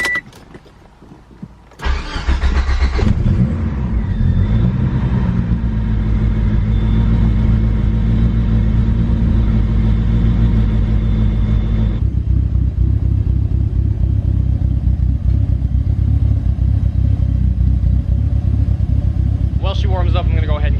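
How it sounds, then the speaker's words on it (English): A Mitsubishi Evo engine cranks and fires on a cold start, then settles into a loud, steady, rumbling high idle close by as it warms up, the tone dropping slightly partway through; no talk over it. "Good old cold start."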